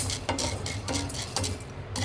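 Urad dal and other lentils dry-roast in a pan, stirred with repeated rhythmic scrapes and light rattling of the grains, close and fairly soft.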